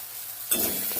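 Ground spice paste drops into hot oil with a sudden loud hiss halfway through, then keeps sizzling and crackling as it is stir-fried for a cauliflower curry, close up and without speech.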